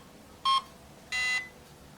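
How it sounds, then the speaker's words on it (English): A Swordfish electronic speed controller for an RC surfer gives two short electronic confirmation beeps during programming, a quick higher-pitched tone followed by a longer one, clear and close. "Confirmation, 1. One, 2, 3, 4 beeps."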